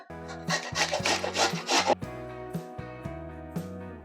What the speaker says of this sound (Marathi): किसणी घेऊ त्यावर हे गाजर आपण किसून घेऊ